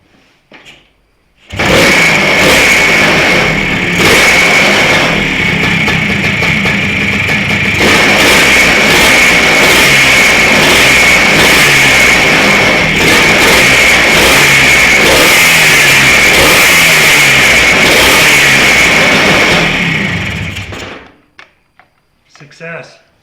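A restored 1971 Kawasaki F5 Bighorn motorcycle engine idles loudly and steadily at close range for about twenty seconds, with a few revs, then cuts off.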